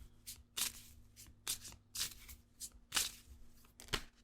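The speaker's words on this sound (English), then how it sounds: "Didn't have to shuffle for very long." Tarot cards are shuffled close up in quick riffling bursts, about eight short papery swishes in a loose rhythm over a faint steady hum, with no voice.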